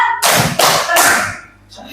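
Hands clap in a clapping game, with a few loud, close claps in quick succession among speech.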